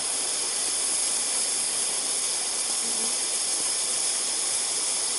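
A RadioShack butane soldering iron burning with a steady, even hiss, close and unbroken with no talk over it.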